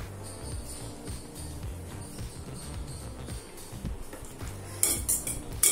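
A spoon mixing cooked black urad dal rice in a metal vessel, with soft scraping and muffled knocks under low background noise and a few sharper metallic clinks near the end.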